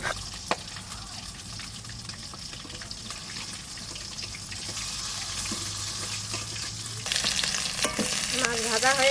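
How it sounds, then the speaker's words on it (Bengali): A large cut stingray frying in oil gives a continuous crackling sizzle close by that grows louder and busier toward the end, with a few clinks from stirring. "মাছ ভাজা হয়ে গেছে, তুলে নিচ্ছে"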